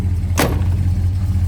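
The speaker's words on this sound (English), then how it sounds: "Watch how this door shuts." The door of a 1969 Dodge Coronet R/T shuts with one short, solid thunk, close and loud, over a steady low hum.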